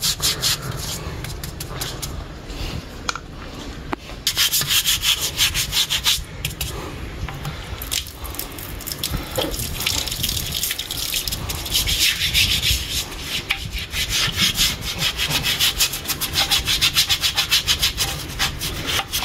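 A brush scrubs steadily and roughly in close, repeated strokes while cleaning during home preparation of truffled bluefin tuna preserves, with cold water in use. The coarse rubbing continues without a break and nobody speaks.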